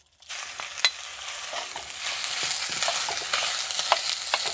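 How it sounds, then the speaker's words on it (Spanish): Ground beef hits hot oil in a pot and bursts into a bright, close sizzle that holds steady, with occasional crackles and light stirring clicks. "Ya está caliente el aceite. Le voy a freír la carne molida."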